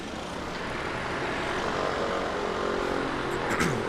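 Aircraft engines run hard through a pre-takeoff warm-up at Christchurch Airport, giving a loud, steady propeller and engine roar that holds unbroken throughout with no voices.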